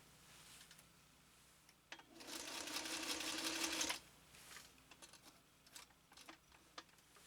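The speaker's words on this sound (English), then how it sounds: "Listen to this motor run." A 1953 Singer 301A sewing machine runs its motor in a quiet workshop, a steady fast whirring hum lasting about two seconds, loud and close, with soft handling clicks before and after.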